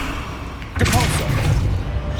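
A Depulso force spell fires in the Hogwarts Legacy video game as a sudden forceful whoosh and thump that breaks in partway through, followed by a sustained rumbling push over busy game sound.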